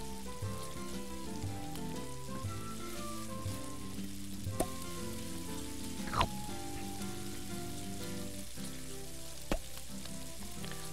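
Food sizzles on a barbecue grill in the video game Octodad: Dadliest Catch, a steady crackling hiss under quiet game music, with a few faint clinks and thumps.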